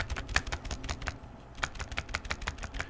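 Rapid keystrokes on a Choice65 budget custom mechanical keyboard built without foam, a steady run of crisp, fairly close clacks with slightly uneven rhythm and no voices.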